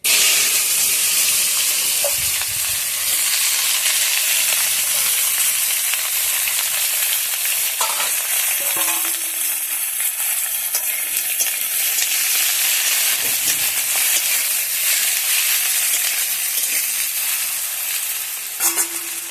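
Cut potatoes with whole cumin fry in hot oil in a loud, continuous sizzle, with stirring clatter and a few brief scrapes breaking in over about twenty seconds.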